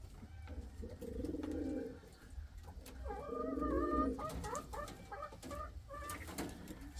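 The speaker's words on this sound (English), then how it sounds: "He was the one cooing." Indian fantail pigeons coo in soft, low repeated phrases at close range, with several overlapping bursts of cooing and a few other bird calls behind.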